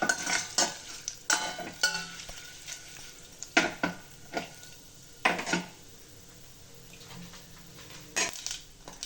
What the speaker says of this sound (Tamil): நல்லா ரோஸ்ட் ஆகட்டும்.